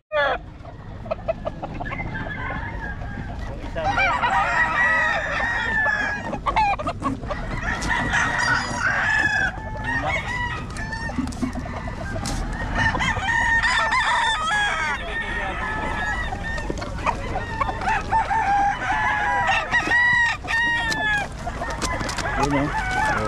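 Roosters crow repeatedly in a noisy crowd of fowl, with clucking and people chattering throughout; several crows overlap, some close and loud.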